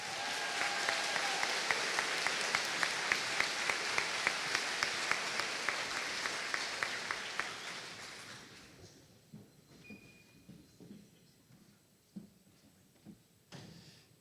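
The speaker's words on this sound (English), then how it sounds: "Big round of applause for our top 11 scholars." Audience applause at a middle school eighth-grade promotion ceremony, dense steady clapping that fades out after about eight seconds into a quieter room with scattered small sounds and faint murmurs.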